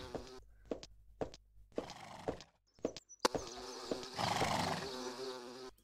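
A horse on a riding farm in a video game whinnies amid buzzing insect sounds and scattered hoof clops, with clicks and a denser stretch of game noise toward the end.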